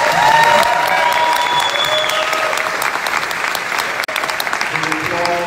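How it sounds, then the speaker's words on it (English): A bodybuilding contest crowd applauds the judges, a steady wash of clapping with some cheering and voices mixed in, continuing evenly across the moment. "give a big up, round of applause to the judges"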